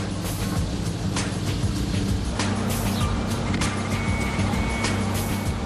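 Super sports cars such as the Enzo Ferrari, Carrera GT, SLR, Murcielago and DB9 drive onto the Nardò high-speed test track at twilight, with a loud, steady wash of engine and road noise throughout.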